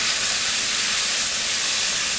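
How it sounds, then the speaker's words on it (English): Onions sautéing in hot oil with spices for red lentil dal, a loud, steady, close sizzling hiss that runs unbroken throughout, with no talking. "And then you're just going to let them saute for about 5 minutes,"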